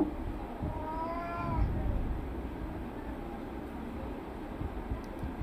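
Indoors, a house cat crying to go outside lets out a single short meow early on. It is fairly faint over a steady background hiss, and the rest is quiet.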